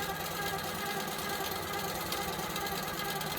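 A longarm quilting machine stitches loops at a fast pace, giving a dense, continuous mechanical whir with a steady, rapid rhythm. It sounds close and runs without talk for a few seconds.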